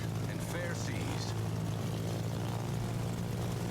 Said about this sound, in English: now you've got this constant buzzing sound in your ear